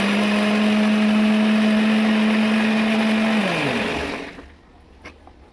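Mixer grinder blending beetroot with a little water into paste, a loud steady motor whine that winds down in pitch and fades to quiet near the end.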